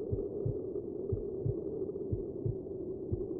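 A still-beating heart in a horror video game thumps in a slow, steady, paired lub-dub rhythm over a low, muffled hum. The beats are soft and dull.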